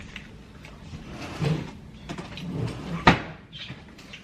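A kitchen drawer slides open and shuts, with soft rummaging sounds and a sharp wooden knock near the end, close by and moderately loud.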